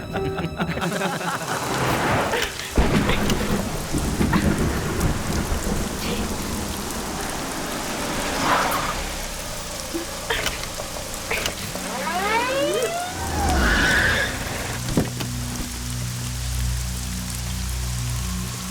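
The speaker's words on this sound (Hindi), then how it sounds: "बरसात है ना" Heavy rain pours steadily throughout, with rolling thunder rumbles rising mid-way and a siren-like tone sweeping through, all loud and close.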